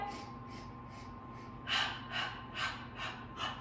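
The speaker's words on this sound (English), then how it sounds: "Nice little percussive breath through your nose." Five short, sharp breaths forced out through the nose in an even rhythm during a Pilates workout, close and fairly quiet, after a stretch of softer breathing.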